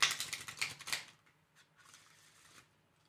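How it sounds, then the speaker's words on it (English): Playing cards riffled in an old-school hand shuffle, a loud dense flurry of crisp flutters for about a second, then quieter scattered card riffles and taps. "You know how to old school shuffle."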